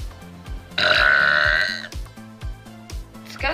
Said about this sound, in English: My mom wants me to burp.